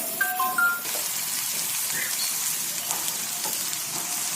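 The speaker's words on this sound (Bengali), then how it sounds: "এখন ভালো করলে নাড়াচাড়া দিয়ে নিচ্ছি কিছুক্ষণ মশলাগুলো মিলে গেলে" Ground turmeric, chili, ginger and coriander sizzling in hot oil for a plum pickle, a steady bright hiss with faint stirring scrapes and a few tones of a short beep near the start.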